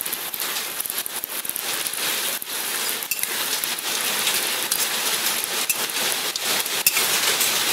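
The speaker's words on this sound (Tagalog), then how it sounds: "Lakas-lakas ng ulan." Heavy rain pouring down, a loud dense continuous patter and hiss of drops striking surfaces without pause.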